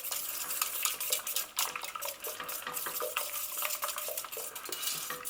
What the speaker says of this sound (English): Again, give it a good stir.